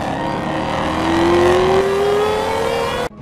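A Shelby Super Snake muscle car with a supercharged 5-liter Coyote V8, about 825 horsepower, revs loud and close, its engine note climbing steadily in pitch before cutting off abruptly.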